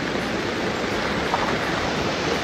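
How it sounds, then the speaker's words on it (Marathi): A waterfall swollen by monsoon rain roars with heavy flow near a fort trek trail, a steady broadband rush that stays loud and unbroken throughout. "धबधब्याचा प्रेशर खूप वाढला आहे आता."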